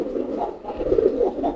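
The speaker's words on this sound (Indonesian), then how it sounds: "Kita coba merpati kolongan aja nih" A kolongan racing pigeon coos up close, a low throaty rolling call that swells and repeats without pause.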